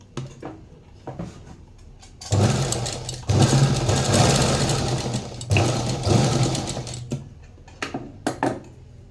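A sewing machine stitches katori tucks on a blouse, running in a sustained loud mechanical whir for several seconds and briefly pausing midway, with softer clicks and handling noise before and after.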